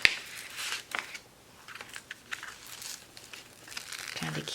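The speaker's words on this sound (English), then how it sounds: "we could go ahead and stuff these into this envelope" Fabric and small craft items are stuffed into an envelope, giving close crinkling and rustling of paper and packaging in irregular bursts, with a quiet voice talking at times.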